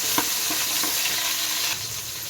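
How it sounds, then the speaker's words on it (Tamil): Coriander leaves fry in a pan with a steady broadband sizzle, close and fairly loud, broken by a few soft stirring clicks, without any speech. "அடுத்து கொத்தமல்லி கொஞ்சமாக, ஒரு கைப்பிடி அளவுக்கு, சும்மா இதையும் லைட்டாக ஃப்ரை பண்ணிக்கோங்க"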